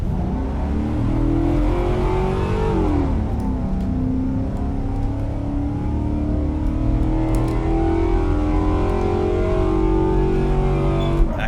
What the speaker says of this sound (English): We'll do a burnout, why don't ya?